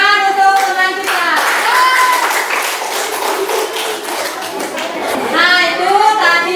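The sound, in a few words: applause, class clapping for classmates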